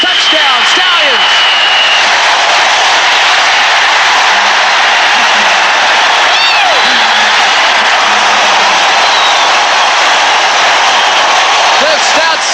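A stadium crowd roars after a Birmingham Stallions touchdown against the Tampa Bay Bandits at a 1984 USFL divisional playoff game, a loud, steady wall of cheering noise that carries through the whole stretch.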